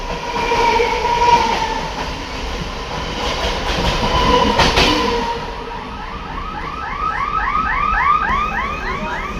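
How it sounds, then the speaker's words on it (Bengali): A Shantipur local passenger train rumbles past nearby with a steady rattling roar, followed by a rhythmic run of squealing, rising metallic tones from the wheels or brakes. "ওইদিকে দেখুন একটা ট্রেন ক্রসিং করছে"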